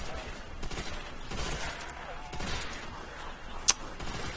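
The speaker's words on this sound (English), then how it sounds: "legendary World at War LMG. The MG42." MG42 light machine gun fire in the World at War custom zombies map Contrivance, heard as a busy, dense spread of shots and clatter with one sharp crack near the end.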